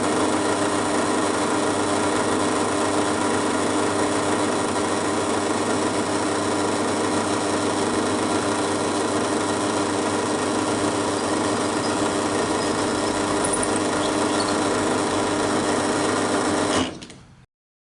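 A power drill boring 4.5mm holes for machine bolts while building a slot cutting machine, a loud, steady, continuous motor whine that holds evenly for the whole stretch, then cuts off abruptly at the end.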